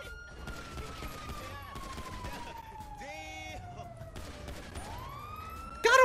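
Gunfire in the video game GTA 5 mixed with a wailing police siren and other game sounds, with sharp shots scattered through the scene and a loud burst near the end.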